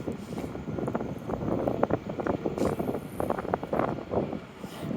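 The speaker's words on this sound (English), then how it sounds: "Whoa, it's windy down here. This is a wind tunnel." Gusty wind whips through a downtown street in Halifax's South End, buffeting the microphone in uneven bursts and low rumbles for the whole stretch, with no talking.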